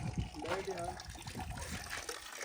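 Water trickles weakly from a tap at a house being made into a homestay, a thin, uneven dribble with a voice talking over it close by.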